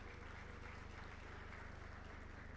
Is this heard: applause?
yes